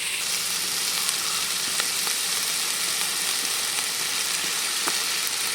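Ginger, garlic, coriander leaves and curry leaves fry for chicken biryani in a steady, dense hiss of hot oil, loud and continuous with a few faint spatters, no voices.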